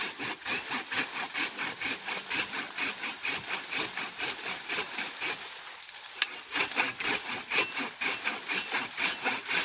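A pruning saw cuts through a citrus tree branch with steady, rhythmic back-and-forth rasping strokes, a brief pause midway, then resumed sawing up close.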